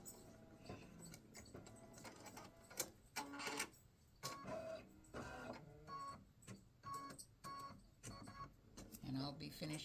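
Embroidery machine stitching a red-thread greeting card design, a quiet busy patter of rapid mechanical clicks and short whirring bursts with tonal beeps, irregular in rhythm and heard up close.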